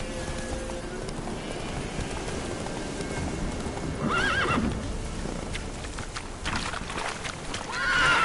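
A horse in The Witcher 3 neighs loudly over galloping hooves, the whinny rising sharply midway and again at the end, with a steady rhythmic drumming of hooves and game ambience underneath.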